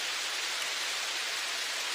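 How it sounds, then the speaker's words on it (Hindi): Heavy cartoon rainfall, a steady dense hiss of downpour with no breaks, fairly close and even throughout, with no voices. "और उस वक्त बहुत ज्यादा बारिश हो रही थी।"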